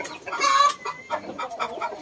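Pure Japanese shamo chickens in a yard cluck in short, scattered bursts, one louder call near the start followed by softer repeated clucks, moderately close with no talking.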